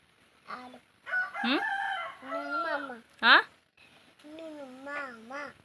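A rooster crows loudly and close by, a strained rising call, amid a child babbling and people talking around it.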